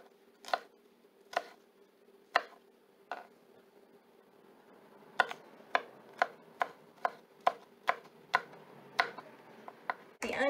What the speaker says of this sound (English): I've also got a garlic clove that I'm going to chop that up too